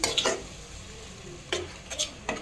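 Tomato masala for eggplant olo (ringan oro) cooks in a pan under a quiet steady sizzle, with a few sharp utensil scrapes and clinks from stirring near the start and end, close and without voices.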